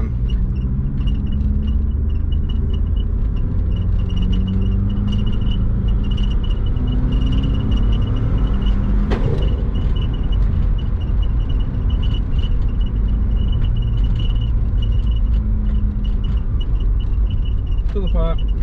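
A compound-turbo Subaru engine pulls through second gear, a loud continuous rumbling drone with rising engine tones in the first half and steady road noise after.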